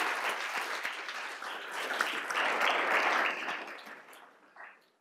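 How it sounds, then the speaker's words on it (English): An audience at a workforce panel event greets the panel with a warm round of applause that builds to a peak, then tapers off into scattered claps and fades out. "can we give our panel a round of applause?"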